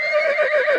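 A horse neighs on a ranch in Saskatchewan, a single close, loud whinny with a wavering, sustained pitch and no talk over it.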